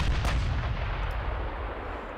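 Heavy battleship main guns firing in the naval warfare game Ultimate Admiral: Dreadnoughts, a deep booming salvo rumbling and fading over a couple of seconds, no talking.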